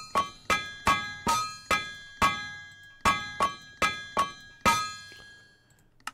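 A hammer strikes a wrought iron sheet on an anvil in the TerraFirmaCraft video game, eleven sharp metallic clangs in a steady rhythm, each ringing briefly before fading, clear and alone.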